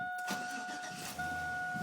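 A 1999 Chevrolet Silverado K1500 pickup with stock exhaust cranks briefly and catches within about a second, settling into a smooth idle, close and fairly quiet.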